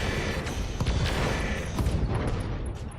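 Dense, sustained weapons fire and explosive booms roll through a battle in the Roguetech mech game, a continuous loud barrage with no clear gaps.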